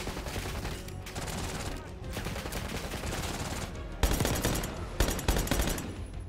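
An auto pistol fires in the Black Ops 6 campaign, long stretches of rapid, loud automatic shots with a few sharper, heavier bursts near the end.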